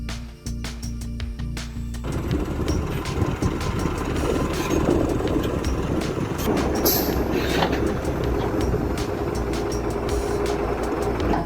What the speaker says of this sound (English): This device uses cutting and bending tools to quickly and efficiently dismantle old rails.